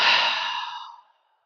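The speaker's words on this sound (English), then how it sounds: "And out through the mouth." A long, soft exhale out through the mouth during a gentle morning yoga flow, a breathy sigh that fades away over about a second, heard alone.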